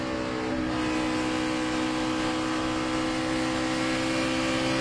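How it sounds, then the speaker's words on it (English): NASCAR race car engine on an in-car run with Alex Bowman driving, a loud continuous droning roar that holds near full throttle, with a slight dip before surging back. "Out of the gas, but then listen how quickly he gets back to wide open throttle."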